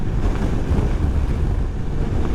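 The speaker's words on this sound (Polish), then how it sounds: "wiatr wieje tak, że to masakra" Strong wind buffets the microphone in a continuous, loud low rumble, gusting unevenly without any voices, outdoors on a motorcycle trip on a 2025 Honda NC750X DCT.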